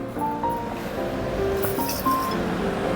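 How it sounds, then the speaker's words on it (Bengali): Handfuls of raw rice being swished and rubbed in a bowl of water, a steady wet sloshing and gritty rustle with faint clinks, close and continuous throughout. "চলুন চালটা তাহলে একটু ধুয়ে নিই"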